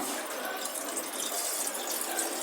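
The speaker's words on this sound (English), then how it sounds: "Add it into this measuring cylinder containing some quantity of water." Water pouring steadily into a laboratory measuring cylinder during a redox titration preparation, a continuous close splashing stream that stays even throughout.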